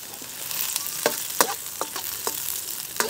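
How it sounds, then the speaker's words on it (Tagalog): Ginger and garlic fry in hot oil with a steady, close sizzle, broken by crisp pops and spatters and a few sharper crackles, with no voices. "Painit na tayo ng mantika, luya, bawang,"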